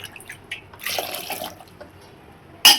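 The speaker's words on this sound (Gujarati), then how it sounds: "હવે આપણે અંદર 2 ગ્લાસ પાણી નાખવાનું છે" Two glasses of water pour into a pot of boiled dal for Gujarati dal dhokli, a splashing gush near the start, then a softer trickle, and a sharp clink or splash at the end.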